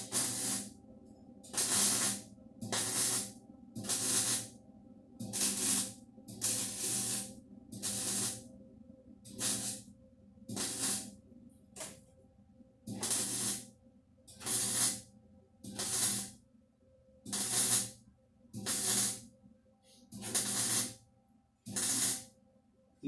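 Welding on the body of a 1970 MGB car, a series of about sixteen short hissing, crackling bursts in a steady stop-start rhythm, close and loud with quiet gaps between.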